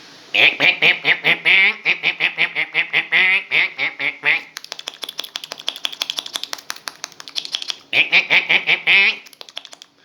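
Ducks quack in rapid, rhythmic bursts, loud and close, while feeding in courtyard mud by a hand pump, with a brief stretch of chattering clicks before the quacking resumes.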